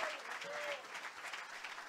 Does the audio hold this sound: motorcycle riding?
no